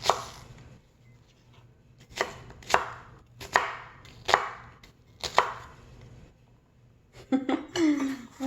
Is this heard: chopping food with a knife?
yes